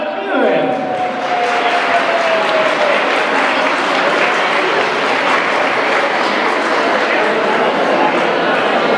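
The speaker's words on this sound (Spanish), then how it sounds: "Quiero que le recibamos con un fuerte aplauso." An audience at a drag queen contest during the 2015 Carnival in Ciudad Real breaks into loud, sustained applause, dense clapping filling the whole stretch with crowd noise and a faint whistle-like tone at the start.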